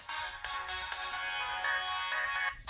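A ringtone melody plays steadily from the front speaker of an LG L40 Dual TV phone, bright and thin-sounding, moderately quiet, with no voices.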